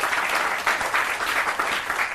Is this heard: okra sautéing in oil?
no